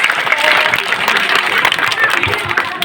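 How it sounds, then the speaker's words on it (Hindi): Loud applause from an audience at an Ambedkar birthday celebration, steady dense clapping lasting the whole stretch, with crowd noise mixed in. "जोरदार तालियां।"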